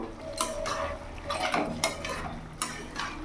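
A spoon scrapes and clanks against a pot as shukto vegetables with potato, papaya and fried lentil dumplings are stirred, several sharp metallic knocks over a soft sizzle, close and without speech.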